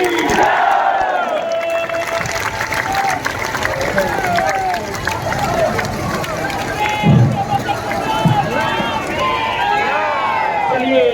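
A crowd at a Durga Puja immersion procession chants and cheers loudly and continuously, with rushing movement and brief thumps, under a lively wash of voices.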